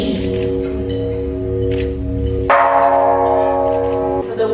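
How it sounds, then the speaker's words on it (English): A bell of world peace and love struck at a solemn gala ceremony, its sustained ringing tones sounding loud and resonant; a second strike midway renews the ringing, which then hums on and fades. "During the gala, a solemn ceremony of ringing the bell of world peace and love is held"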